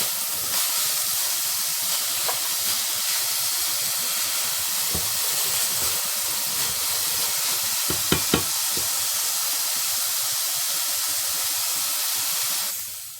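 Onions for moussaka sizzle steadily in a hot pan, a continuous frying hiss with a few soft clicks and stirring knocks scattered through it.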